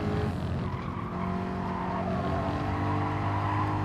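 Tires skid and squeal through a corner at Laguna Seca in a racing video game on hard tires, a continuous smeared screech over a steady engine drone, close and sustained for several seconds with no voices.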